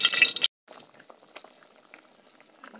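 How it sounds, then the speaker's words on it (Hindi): A brief loud hiss as spices hit hot oil for tempering lentils, then a quieter, steady sizzle and light crackling from a pan. "बस तड़का लगाने लगी हूँ"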